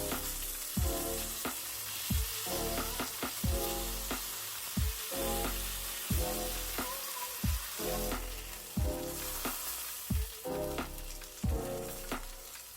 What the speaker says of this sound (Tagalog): Piprituhin lang natin to hanggang maging slightly toasted ang ating chicken breast.